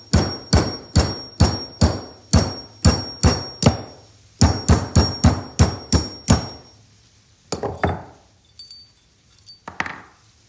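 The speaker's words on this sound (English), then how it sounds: "just taking this punch and hammering it in here and splitting the wood" A steel punch is hammered into wood to split it out of an axe head while fitting a hatchet handle: a fast run of sharp, ringing metal strikes, close and loud, then slower scattered taps with pauses.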